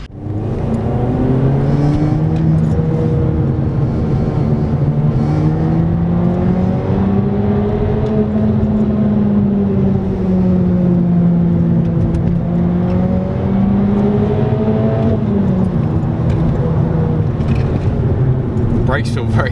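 A Volkswagen Golf Mk5 GTI on the move, its engine droning steadily and loudly from inside the cabin, pitch rising and falling through gear changes and acceleration across the whole stretch.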